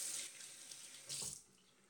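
Water runs from a tap into a bathroom sink during a wet shave, a short hissing splash that changes briefly before tapering off.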